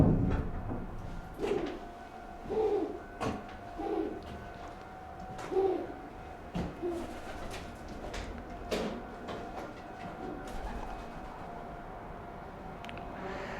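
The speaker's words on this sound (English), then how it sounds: "So here we are. This is pigeon land." Pigeons coo inside an old Japanese apartment building, soft low throaty calls repeating in short bursts close by, mixed with occasional sharp knocks and scraping sounds.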